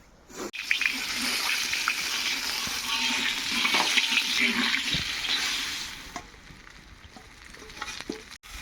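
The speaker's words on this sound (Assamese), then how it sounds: "আৰু এতিয়া খিচিৰিখিনি বনাই দিওঁ।" Khichdi cooks and is stirred in a pot during a late-night Mahashivratri meal preparation in Assam, a steady sizzling, scraping texture with soft clinks, fairly close, that thins out near the end.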